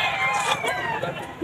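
A rooster crows in a short harmonic burst against a busy pet market background with faint chatter.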